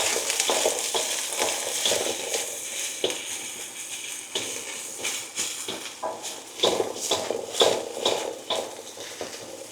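Carrots and onions sizzle as they are stir-fried in an oiled pan for a pork stir-fry, with a steady crackling hiss broken by bursts of scraping and tossing.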